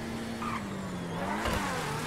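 Deveste Eight supercar from GTA Online accelerating on a test track, a steady mid-pitched engine drone that rises slightly toward the end, heard alone without talk.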